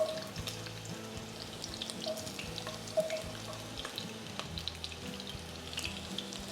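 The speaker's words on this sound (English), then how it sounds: "I'm gonna start with the onion first" Onion pieces frying in a few spoonfuls of hot oil give a steady close sizzle with occasional pops, heard alone without talk.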